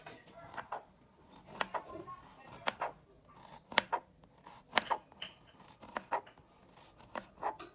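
A knife chopping a clove of garlic on a board in a home kitchen, a quiet irregular series of sharp close taps in small bursts, with no talking.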